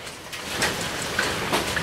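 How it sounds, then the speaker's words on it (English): Hail falling outdoors during a hail storm at a park, a steady close patter of small impacts with scattered sharper clicks, continuous and fairly even throughout. "we're having a hail."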